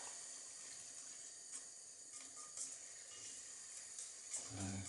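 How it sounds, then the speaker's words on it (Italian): Water trickles into a pot of vegan tomato stew with a soft, steady pour. It ends in a louder burst of sizzling and bubbling. "Aggiungo ancora un pizzichino d'acqua per sciogliere il pomodoro."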